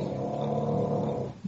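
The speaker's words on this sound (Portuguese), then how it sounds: "Você já viu cachorro que ronca?" A dog snores in a low, rumbling drone with a growly edge, steady and close for most of the moment before easing off briefly at the end.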